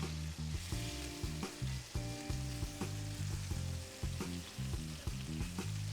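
Flap steak searing in a hot pan just after flipping, a steady close sizzle with crackling bursts and faint utensil knocks, no talking.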